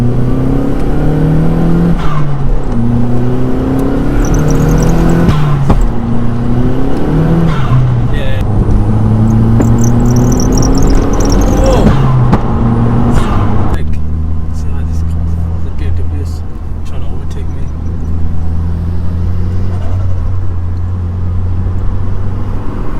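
Audi S3 engine pulls hard in second gear with loud rising revs, sharp gear-change drops and turbo flutter bursts, heard from inside the cabin at night with talk over it.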